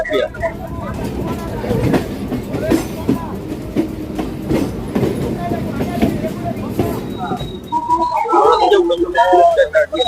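A passenger train rolling along rails with rhythmic clickety-clack and a rumbling carriage hum, voices chattering faintly, then louder talk near the end.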